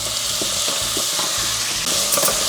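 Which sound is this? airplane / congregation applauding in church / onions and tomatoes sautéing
onions and tomatoes sautéing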